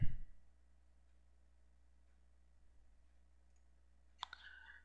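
Sharp computer mouse clicks in a quiet room while working in Paint.net, a soft tap at the start and a quick pair of clicks near the end, with no one speaking.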